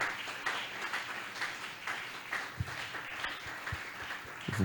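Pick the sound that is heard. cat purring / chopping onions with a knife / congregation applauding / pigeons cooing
congregation applauding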